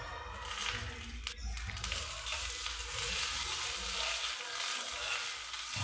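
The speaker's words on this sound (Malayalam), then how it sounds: "വെളിച്ചെണ്ണയിലേക്ക് ഇഞ്ചിയും പിന്നെ ഉണക്കമുളകും കറിവേപ്പിൻ്റെ ഇലയും ഒക്കെ കൂടി ഇട്ടിട്ട് ഒന്ന്" Ginger, dried red chillies and curry leaves fry in coconut oil, a soft steady sizzle and crackle close by, fairly quiet over a low background hum.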